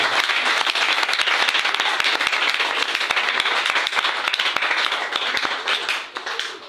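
A church congregation at a revival seminar in Guinea bursts into loud, sustained applause and clapping that fills the room steadily before tapering off near the end.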